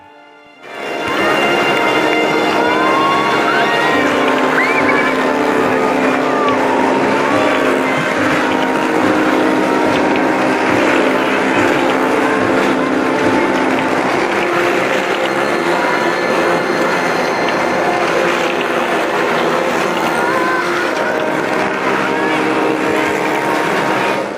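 Motorcycles race around the wall of a well-of-death arena at the Malda Expo Mela fair, their engines a loud, continuous, droning roar that fills the space from start to finish, with tones rising and falling as they circle.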